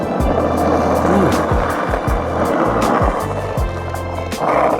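A skateboard on Powell Peralta Nano Rats wheels rolls fast through a skatepark, a steady close rumble broken by regular clacks as the wheels cross joints and bumps, with no talk over it.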